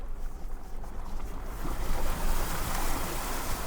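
A vehicle crossing a water stream on a high mountain road, with a steady wash of rushing, splashing water and wind noise, moderately loud and continuous.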